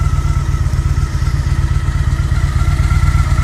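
Liquid-cooled engine idling steadily after a small idle speed adjustment, a close, continuous low rumble with rapid regular pulsing and a faint whirring hum above it.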